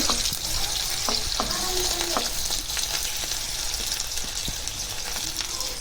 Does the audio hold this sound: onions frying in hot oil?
yes